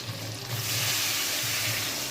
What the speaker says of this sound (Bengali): আলুগুলো দেওয়ার পরে আমি 2-4 মিনিট নাড়াচাড়ার পরে আমি জল দিয়ে দিচ্ছি।